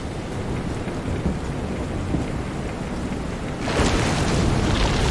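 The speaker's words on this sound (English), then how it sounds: "This is some storm." Thunderstorm and rain in Visions of Mana, a steady loud wash of heavy rain with low thunder rumbling beneath, swelling into a harsher roaring downpour near the end.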